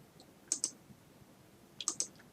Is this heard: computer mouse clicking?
yes